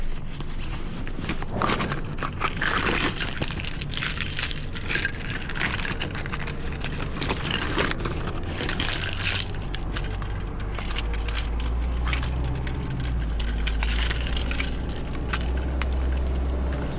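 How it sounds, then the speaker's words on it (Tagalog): A set of keys jangles steadily as it is picked up and handled indoors, a metallic clinking rattle running throughout over a low background hum, fairly close. "Kunin ko na rin pala yung susi ko."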